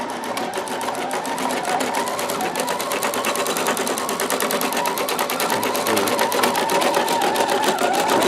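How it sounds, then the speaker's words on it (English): An embroidery sewing machine stitches a placemat design with a fast, steady mechanical chatter of needle strokes. It runs loud and unbroken throughout. "that is what's being stitched on the machine at the moment"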